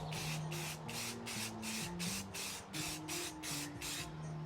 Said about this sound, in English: So we're just laying a flat black primer coat.